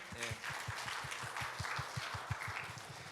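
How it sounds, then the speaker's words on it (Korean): Congregation at a Korean church service claps together in a steady, rhythmic beat, fairly quiet and distant, lasting a few seconds. "우리 격려의 박수 한번 할까요?"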